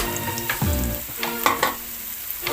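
Ingredients for a tilapia dish sizzle in hot oil while a utensil stirs and scrapes the pan, with several sharp clinks and bursts of frying at a close, moderate level.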